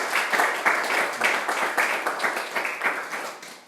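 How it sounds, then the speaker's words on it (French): Church congregation at a French-language worship service clapping in praise, a loud, rhythmic series of strong claps in a steady beat with a crowd wash beneath. "Applaudissons pour glorifier notre Seigneur."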